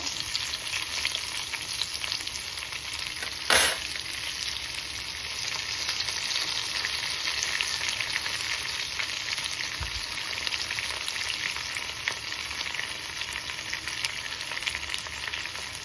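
Onion, ginger and tamarind fry in a pan for a Kerala-style pappadam chutney, giving a steady close sizzle throughout with one brief sharp clatter near the start and no talking.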